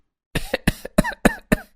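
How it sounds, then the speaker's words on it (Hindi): Five hoarse coughs in a quick, even series, loud and close, with brief gaps between them and no talking. "अरे मुझे तो इतनी ज्यादा खांसी हो रही है,"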